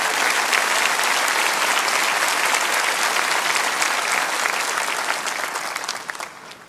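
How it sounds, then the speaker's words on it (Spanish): Steady, dense audience applause fills a church service at full strength for several seconds, then thins and tapers off toward the end, with no voices over it. "pónganse de pie y denles un buen aplauso"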